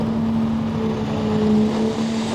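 A four-wheel-drive diesel pulling vehicle at a tractor pull in Georgetown, Ohio, holds a loud, steady engine roar with a strong sustained drone, continuous and close for the whole stretch with no speech.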